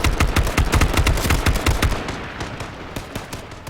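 Gunfire in a shooter video game: a loud, rhythmic burst of automatic shots for about two seconds, then thinning into a few scattered, slightly softer shots.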